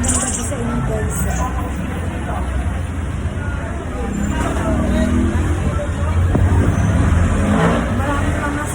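Street traffic of cars and motorcycles at night in Calindola, a continuous near roadway rumble with passing engines swelling and fading, mixed with background chatter and people talking over it.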